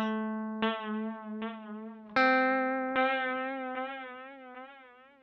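An EHX Canyon tape delay pedal produces a sustained, distorted tone struck several times, each attack decaying with wavering, warbling pitch and gritty, degraded texture, loud and close with no voices.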